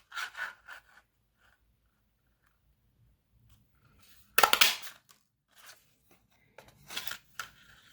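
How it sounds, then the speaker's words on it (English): A paper craft punch cuts pine tree shapes from cardstock, giving a few sharp, separate crunching snaps with quiet pauses between them, the loudest one near the middle. "it does have a punch that I can use to cut out the trees"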